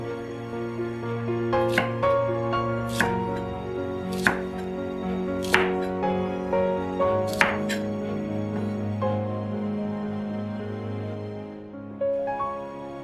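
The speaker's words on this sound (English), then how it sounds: "For the rice paddy herb and sawtooth coriander, simply give them a rough chop." Knife roughly chopping rice paddy herb and sawtooth coriander on a cutting board, a handful of crisp, close taps spaced a second or so apart over a steady background hum.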